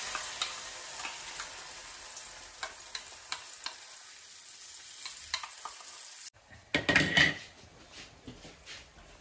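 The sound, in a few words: ground paste frying in ghee on low flame for ghee roast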